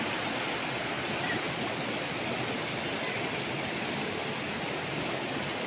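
A river flows steadily beside a farm lot in Liliw, Laguna, giving an unbroken broadband rush of water that stays constant throughout, with no voices.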